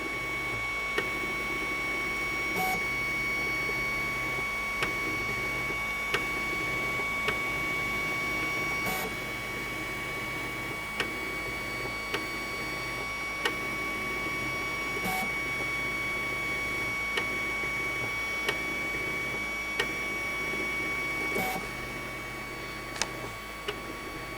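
An open-frame 3D printer runs its bed levelling routine, giving a steady, fairly quiet mechanical hum with faint stepper whine and regular soft ticks as the head moves between probe points, with no voices.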